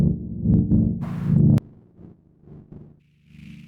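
Dub chords pass through Rectify distortion in Ableton Live: a loud, thick, buzzy chord stab that cuts off abruptly, then quieter rumbling chord hits fading into a faint hiss.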